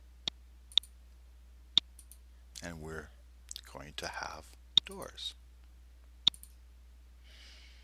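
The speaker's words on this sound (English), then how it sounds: "now all we need to do is start clicking on these corner points" Computer mouse clicking while modeling in SketchUp, a handful of sharp, isolated clicks spaced a second or so apart, close and crisp, interleaved with someone speaking softly between them.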